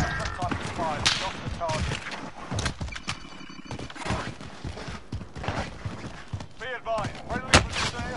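Gunfire in Call of Duty, scattered sharp shots among a busy game mix with horse whinnies and hoofbeats, a particularly crisp crack near the end.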